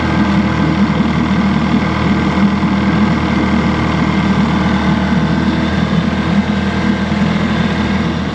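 A Mercury outboard motor idling steadily while warming up, a loud, close, continuous low rumble with an even throb and no change in pitch.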